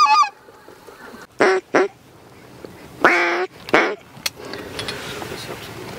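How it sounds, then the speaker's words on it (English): Several ducks quack in short, loud bursts during a sunrise duck hunt on the water, near and repeated with gaps between calls, over quiet outdoor background. "Look at this duck, look at them two right there."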